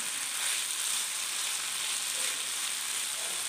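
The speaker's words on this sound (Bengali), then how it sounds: "আমি ঢাকনা ছাড়া এটাকে একটু ফ্রাই করছি। এবারে খুব সুন্দর পেঁয়াজ কলির গন্ধ বেরোচ্ছে, ভাজা পেঁয়াজ কলি" Spring onions fry in oil in an uncovered pan, giving off a steady, close, even sizzle with no pauses and no voices.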